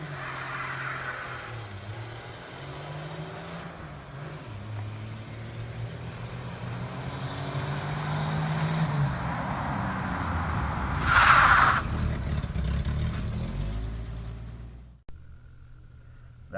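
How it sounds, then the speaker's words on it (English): The original inline six engine of a 1975 Ford Maverick four-door sedan idles and revs, its low tone rising and falling over several seconds before cutting off near the end. "1975 Ford Maverick four-door sedan. Now, Project Spirit still has her original inline six."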